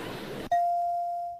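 A single clear bell rings as a reward, one bright ding that hangs and slowly fades, right after a brief break in a noisy background.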